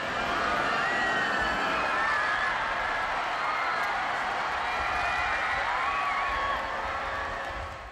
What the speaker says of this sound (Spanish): en cuanto se pudo ver al Papa tras la ventana del avión, la multitud estalló en una ovación